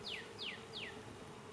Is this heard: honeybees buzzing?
yes